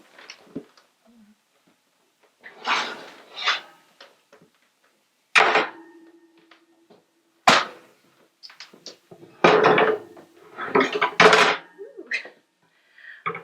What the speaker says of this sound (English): we are going to check on our bread and take the lid off